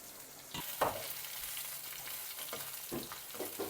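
Shallots and curry leaves fry for a tempering for country chicken curry, a steady hot-oil sizzle broken by a few stirring scrapes, close and with no talking.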